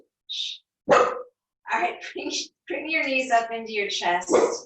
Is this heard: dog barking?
yes